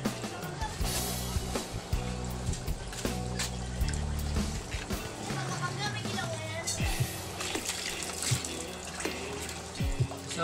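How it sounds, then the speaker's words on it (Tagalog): Water pouring and trickling into an aquarium show tank as it is refilled, a continuous splashing, gurgling flow heard close, with a person talking over it at times. "papalitan ko muna ng tubig"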